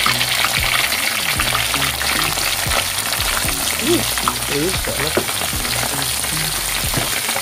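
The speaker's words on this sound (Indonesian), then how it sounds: "Sekarang aku masukkan ikan terinya" Anchovies (teri) fry in hot oil with a loud, constant close sizzle and crackle, plus occasional stirring scrapes and no talking.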